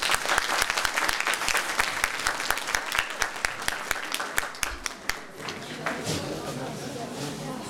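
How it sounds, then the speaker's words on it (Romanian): An audience claps warmly to welcome carol singers from Borleasa at a 2014 carol event, dense applause for about five seconds that thins and gives way to crowd murmur and voices. "Să-i primim cu mare drag și cu multe aplauze."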